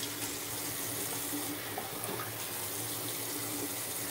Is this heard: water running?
yes